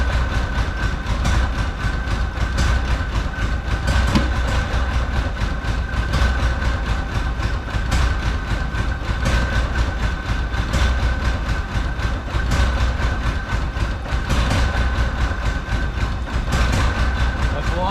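A rare Porsche engine runs continuously after injector work, a steady close-up drone with a persistent tonal hum and a regular mechanical ticking pulse, holding even loudness throughout.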